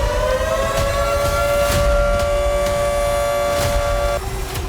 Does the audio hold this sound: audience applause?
no